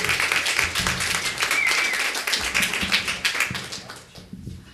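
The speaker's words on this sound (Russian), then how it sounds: "Пожалуйста, бурными и продолжительными аплодисментами." A concert audience breaks into loud, sustained applause, dense clapping from many hands close by that swells, then thins and fades out near the end.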